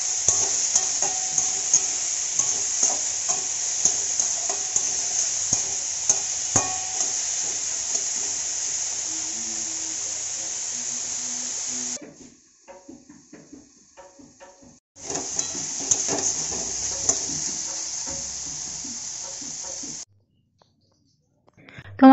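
Flat beans and potato stirred as they fry in a pan with salt and turmeric: a steady hiss of sizzling with scraping stirs, broken by a brief lull, then resuming before falling silent.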